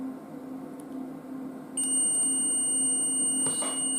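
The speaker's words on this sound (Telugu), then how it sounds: "సో మనకు బజర్ అయితే మోత వస్తుంది." The buzzer of a multimeter continuity tester sounds as a steady electronic tone while probes test the pins of a computer power cord, starting partway through and holding loud to the end against a low background hum.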